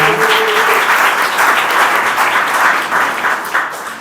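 An audience at a school graduation ceremony gives sustained applause after an awards presentation, dense even clapping that holds steady for several seconds before easing slightly.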